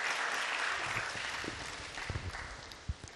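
A conference audience gives a round of applause, dense clapping that fades over a few seconds into a few scattered claps.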